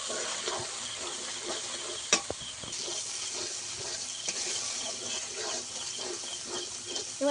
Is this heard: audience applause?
no